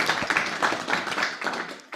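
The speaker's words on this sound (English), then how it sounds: "A round of applause to Raivis and to his awesome project." An audience at an investment pitch session gives a short burst of applause after a presentation, a dense patter of hand claps that fades within two seconds.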